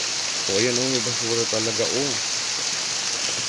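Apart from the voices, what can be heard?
light rain falling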